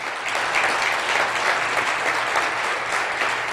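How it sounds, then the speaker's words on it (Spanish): Steady, dense audience applause fills a church service, carrying evenly for a few seconds with no speech over it. "De un aplauso, aunque sea de envidia"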